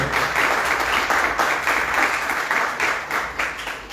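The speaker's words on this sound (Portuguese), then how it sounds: "Vamos aplaudir a Jesus" Applause rises from the audience at a church Bible course, a steady wash of clapping that swells and fades slightly, with no talking over it.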